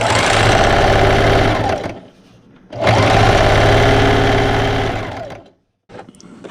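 Sewing machine stitching around a quilt ruler holder: a loud, steady motor whir with rapid needle clatter runs for about two seconds, pauses briefly, then resumes for nearly three seconds before stopping with a short final burst.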